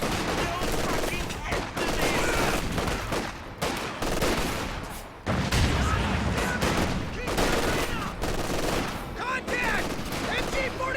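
Dense MG42 machine-gun fire in a World War II strategy video game battle, loud and continuous bursts layered with other gunfire and explosions throughout, with brief dips between volleys.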